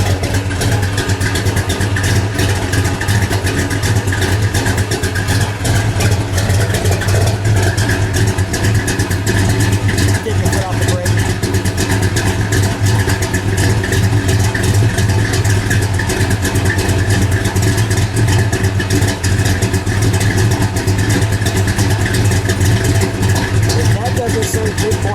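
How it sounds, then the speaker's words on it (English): A 1966 Chevrolet Chevelle SS 396 fitted with a 427 engine idles loudly with a deep, steady, lumpy rumble throughout, while people talk nearby. "Just let it idle for a minute."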